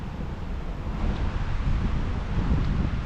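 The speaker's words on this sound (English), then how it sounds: "That wind is cold." Cold wind gusting steadily across a microphone beside open water near a fishing dock, a loud continuous low rumble and buffeting with no voices.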